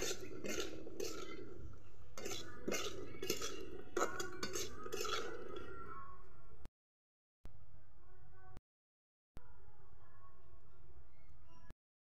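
A metal utensil scrapes and clinks against a pot as fig curry is stirred, repeated strokes close up, broken by a few short silent gaps.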